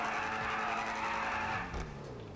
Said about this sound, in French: Concernant le bruit de ce petit Class G.